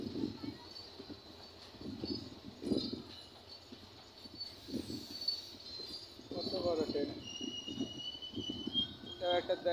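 A large train arrives at Majhgram railway junction in Lalpur, Natore, with a series of rhythmic low clunks and rumbling from the wheels. A high whine carries over it, and voices are heard in the background.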